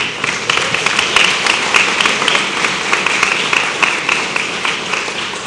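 Steady, sustained applause from a large audience at a State of the City address, a dense wash of many hands clapping evenly throughout with no talking over it.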